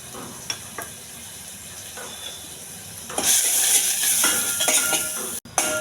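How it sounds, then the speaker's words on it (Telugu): Tempering of dried red chillies, fenugreek, cumin, carom seeds and black pepper fries in a pan: quiet clinks of stirring at first, then a loud bright sizzle that surges in and carries on to the end, with a brief cut near the close. "తాలింపు బాగా వేగిపోయిందండి."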